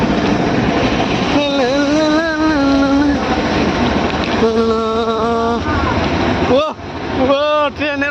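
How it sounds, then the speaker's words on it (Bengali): A train passing close by, with a loud continuous rumble and repeated sustained horn blasts that rise and fall, and voices talking faintly underneath. "ট্রেন তো"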